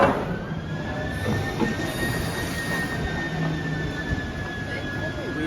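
A London Underground train at Nine Elms station gives a steady loud rumble of wheels on track, with a faint high squeal drawn out over it for the whole stretch.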